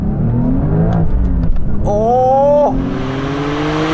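A Porsche 911 accelerates hard out of a tight turn, its loud engine note climbing steadily in pitch before easing off, with a brief exclamation from someone inside partway through.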